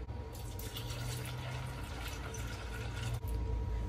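Water poured into a pitcher already holding ice, for a watermelon and strawberry drink; a steady, close, rushing pour runs without a break for about four seconds, with no talking.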